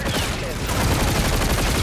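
Dense, continuous gunfire from a Call of Duty match, steady bursts filling the clip at close range with a rising intensity partway through.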